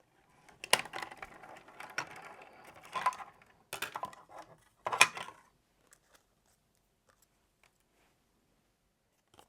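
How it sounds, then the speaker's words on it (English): A die-cutting machine cranks a stitched circle die through card for handmade holiday cards, producing a few bursts of clicking, grinding mechanical rolling that stop abruptly, leaving near silence. "The other thing that I'm going to cut out is this stitched circle from Master Layouts"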